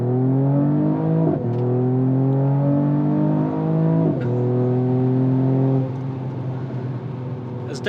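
A 2021 Mercedes-AMG E53 Coupe accelerates hard onto a highway from about 14 mph, its engine note climbing steeply from the cabin through two quick upshifts, then settling into a steadier drone.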